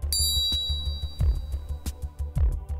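A golf ball struck by a Mizuno MP52 grain flow forged iron: several sharp ringing impacts, one near the start with a long bright sustained tone, then repeated crisp strikes with lingering resonance.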